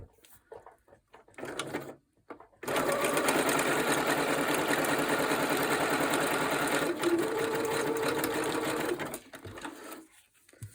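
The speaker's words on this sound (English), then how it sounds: "turn your sound down if you don't like the sound of the sewing machine" A sewing machine runs in one steady burst of rapid stitching for several seconds, preceded and followed by small handling clicks.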